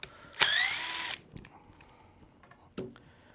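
A 2mm driver backs a pin screw out of an RC motorcycle knuckle, heard as one short, bright whir of a small power driver, followed by faint clicks and handling of small parts.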